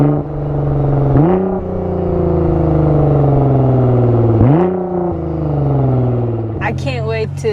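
A Nissan GTR with a new performance exhaust revs through a series of downshifts, each marked by a sharp blip and a long falling engine drone, close and loud, ending in crackling pops.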